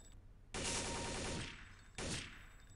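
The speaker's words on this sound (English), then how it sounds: "I can't hear you over the sound of all the bullets and explosions." Bursts of rapid automatic gunfire in Counter-Strike: Deleted Scenes, a long loud rattling volley followed by a shorter one, dense and close with a reverberant tail.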